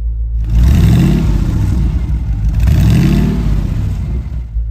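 Mercedes-Benz C111 with its V8 engine, revved up hard twice in loud, close bursts, each swelling and then falling back to a deep, rumbling idle.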